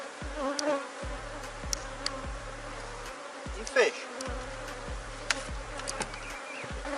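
Honey bees buzz around a wooden beehive box outdoors, a dense droning swarm with individual bees passing close by, over a repeating low mechanical hum and a brief spoken word.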